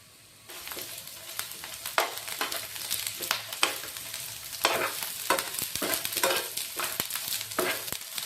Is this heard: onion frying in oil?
yes